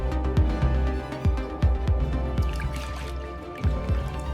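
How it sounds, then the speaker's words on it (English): Lye added to a melted tallow mixture in a soap factory gives repeated soft dripping and squishing plops of liquid over a steady low machinery drone, close and continuous. "I am adding lye to the tallow mixture."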